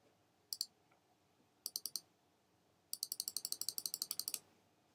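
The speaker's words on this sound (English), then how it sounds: "I usually use my nudge keys." Computer keyboard nudge keys tapped while aligning layers in Cricut Design Space: two short clusters of light clicks, then a fast run of about fifteen evenly spaced taps, quiet and close, with no talking.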